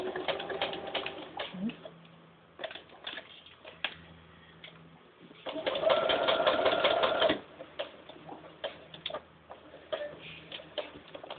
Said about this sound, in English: Now I'm going to sew the line between 2 and 3. And again, you're going to sew right on the line.